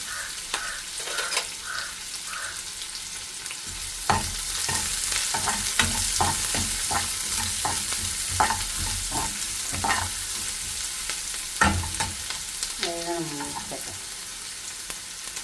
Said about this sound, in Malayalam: പാൻ അടുപ്പത്ത് വെച്ചിട്ട് അതിൽ ഓയിൽ ഒഴിച്ച് കൊടുത്തിട്ടുണ്ട്. നമുക്ക് സവാള വെക്കാം. സവാള ഒന്ന് നല്ല മൂത്ത് വരണം.